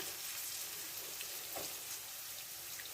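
Fish frying in a pan gives a faint, continuous sizzle and crackle of hot oil, steady and close, with no voices.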